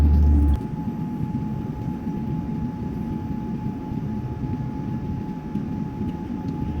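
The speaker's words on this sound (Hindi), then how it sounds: "तो यहाँ पर ये प्लेन लैंड होने जा रहा है" A passenger airplane comes in to land on the runway, heard from inside the cabin as a loud, steady engine and wind roar that holds constant throughout, with a faint high tone over it and no talking.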